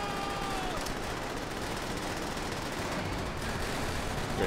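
Call of Duty: World at War gameplay fills with dense, continuous gunfire, rapid automatic bursts blending into a steady wash of battle noise, with faint talk underneath.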